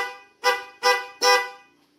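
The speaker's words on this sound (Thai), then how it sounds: "เดี๋ยวผมจะบีบแตร ของตัวสีแดง ให้เพื่อนๆฟังดูก่อนนะครับว่าเสียงเป็นยังไง" Red Hella car horn fitted to an Isuzu D-Max, sounding three short, loud, evenly spaced honks with a bright, brassy tone. Each honk cuts off cleanly, with a brief decay after the last.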